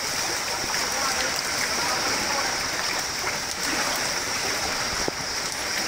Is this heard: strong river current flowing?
yes